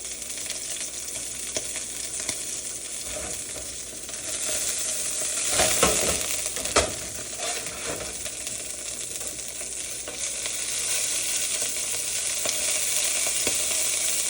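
A steak sears in a hot pan with a steady loud sizzle throughout, swelling briefly with a few sharp crackles and pops midway, and no one talking.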